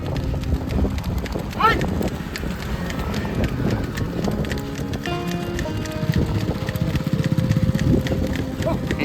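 Horses or pack animals run along a mountain route, their hooves clip-clopping in irregular patter at moderate distance while a person talks over them and wind brushes the microphone.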